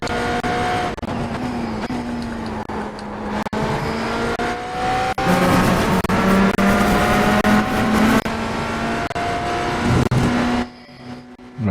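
Cadillac race cars roar through an iRacing sim race, a sustained loud engine drone with shifting pitch as they accelerate along a straight, steady and close, dropping off briefly near the end.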